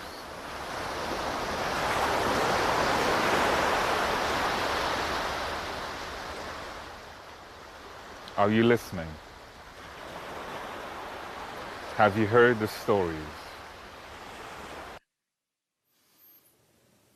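Ocean surf rolls in a broad, steady wash of breaking waves for most of the stretch, then drops lower as voices speak over it in two short bursts before the sound cuts off.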